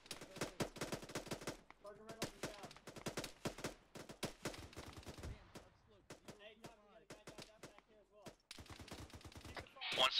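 Gunfire in a military infantry video game: rapid bursts of automatic fire rattle in dense volleys, with gaps in which a voice is heard over the radio. The heavy shooting resumes at the end.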